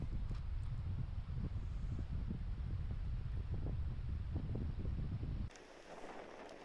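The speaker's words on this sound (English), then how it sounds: "Listen to that crazy wind." Strong wind blows across an outdoor court, roaring steady and loud against the microphone with gusty rumble, then dropping abruptly to a softer rush near the end.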